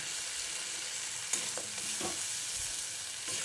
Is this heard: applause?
no